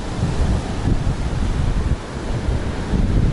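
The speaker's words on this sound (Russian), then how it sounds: "Коль ветер и сильные волны, сразу примчали скайсерферы." Heavy storm surf pounds the beach at Tuapse on the Black Sea, a continuous loud roar of breaking waves with strong wind buffeting the microphone throughout, no talking.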